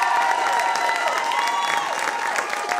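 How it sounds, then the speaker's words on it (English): A studio audience claps and cheers for comedian Adam Richard on a live Bowen show, a lively wash of applause with a few whoops rising over it, fairly close and steady. "Please give him a big round of applause."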